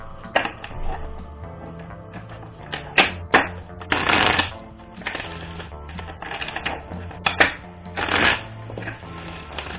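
Oracle cards are shuffled by hand in a sustained run of crisp riffling and flicking bursts, with papery slaps and rustles rising and falling, close and clear with no talk.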